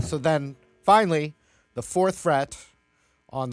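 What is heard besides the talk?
No everyday noise stands out behind the speech.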